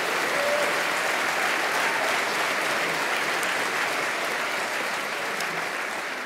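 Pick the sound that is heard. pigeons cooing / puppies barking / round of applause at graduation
round of applause at graduation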